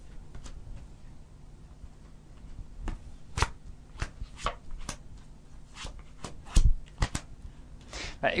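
Tarot cards shuffled by hand during a live clairvoyance reading, giving a run of crisp, irregular flicks and slaps that peak in a few sharper snaps, close and fairly quiet with no talk.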